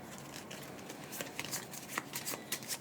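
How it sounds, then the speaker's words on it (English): A small deck from the Button Shy card game Death Valley: Highs and Lows is shuffled close up on a tabletop, quiet crisp riffling and slapping bursts repeating in quick irregular strokes with no talking. "So I'm gonna shuffle this one, Last Chance Range, into the deck."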